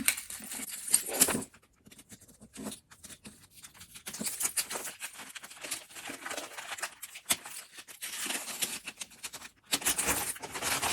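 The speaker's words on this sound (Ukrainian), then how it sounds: "знову буду шуміти зараз ключами, тому що оце також буде розрізатися" Metallic jangling and clinking of keys in bursts over about eleven seconds while unboxing books, close by, with scraping and rustling between the louder shakes.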